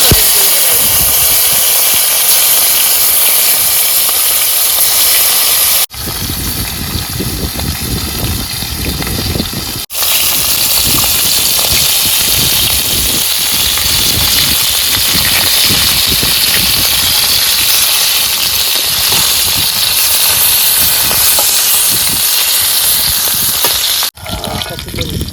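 Snakehead fish marinated with turmeric frying in hot oil in a home kitchen, a loud, steady, dense sizzle that runs almost continuously, with a brief dip partway through and a sharp break near the end.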